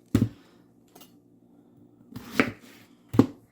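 An onion being cut into cubes for a sweet potato curry: a few crisp, separate knife knocks on a cutting board, close and clear, with quiet pauses between strokes.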